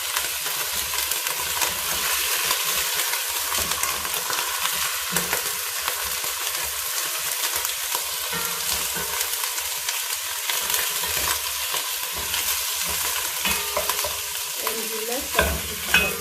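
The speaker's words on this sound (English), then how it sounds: "So our onions are done, and we'll add some beef." Beef and onions fry in a pan for Githeri, with a continuous loud sizzle and repeated scraping stirs from a utensil throughout, close up and with no talking.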